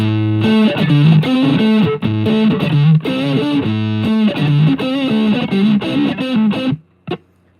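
Distorted electric guitar riff in a grunge garage setting, loud and continuous with chugging rhythmic chords and melodic runs for about seven seconds, ending abruptly with a short final hit.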